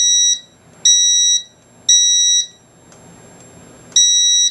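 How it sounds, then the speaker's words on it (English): Smoke detector alarm sounding during a fire alarm system test, loud piercing electronic beeps in a regular on-off pattern of long blasts separated by short gaps, with quiet room noise between. "I tried testing out the smoke detector"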